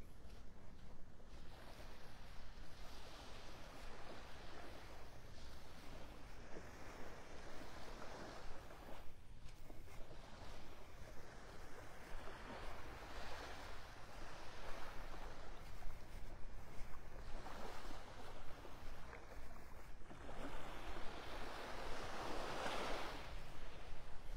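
Ocean waves roll onto the beach in North Naples, Florida, a steady wash of surf with gentle swells rising and falling, mixed with wind buffeting the microphone and no voices.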